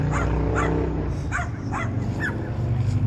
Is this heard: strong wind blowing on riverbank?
no